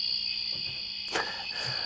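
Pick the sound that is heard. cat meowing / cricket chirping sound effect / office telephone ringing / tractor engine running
cricket chirping sound effect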